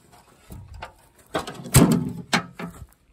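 A loose, worn spindle bearing on a 1986 MTD 12/38 mower deck, turned by hand, gives irregular grinding, ratcheting clicks in short bursts at close range, with no talk.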